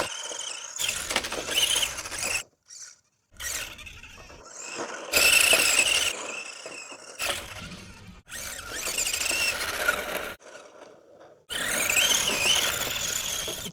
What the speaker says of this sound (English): On tile floor nylon tires, I'm going to do a little drifting.